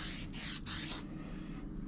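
Coverall protectant sprayed from a nozzle in two close hissing bursts, each about a third of a second, followed by a fainter trailing spray, with no talk.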